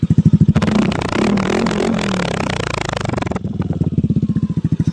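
A Yamaha Aerox V2 scooter fitted with a TRC exhaust pipe revs hard close by. A loud, rapid exhaust pulse climbs into a sustained high-rpm roar, then drops back to a throbbing idle.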